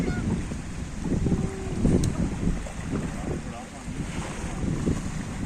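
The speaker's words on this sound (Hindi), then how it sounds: "इतनी स्पीडों से आ रही है, आवाज़ आ रही है आपको समुद्र की।" Sea waves washing onto a beach in Qatar in a constant rushing wash, with wind noise gusting across the microphone, close and fairly loud.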